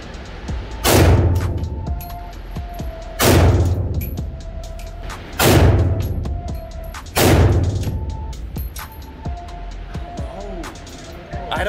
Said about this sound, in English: I'm gonna shoot two of these big grain first, and then I'm gonna shoot the Underwood.